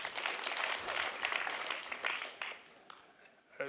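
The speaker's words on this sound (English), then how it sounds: "don't rush to give me a big round of applause" Applause from a seated audience at a leadership summit lecture, a dense wash of many hands clapping steadily at moderate volume, thinning out toward the end.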